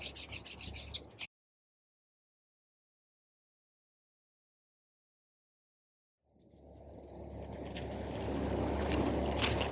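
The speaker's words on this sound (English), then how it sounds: "Continue sanding with 240 until all the 120 sanding marks are removed." Steady rubbing of 240-grit sandpaper against a knife handle, a brief stroke, then silence, followed by continuous scratchy sanding that grows louder.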